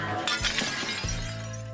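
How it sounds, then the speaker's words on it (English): Glass shatters in a sudden loud crash with scattering fragments, then a steady electrical hum lingers as the pieces settle, during a staged breakaway-glass test. "the glass broke away"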